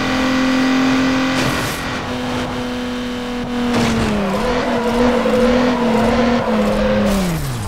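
A Mazda RX7 in the racing game Need for Speed Underground 2 drives at about 300 km/h. The engine holds a loud, steady high-speed drone with shifting pitch as the gears change.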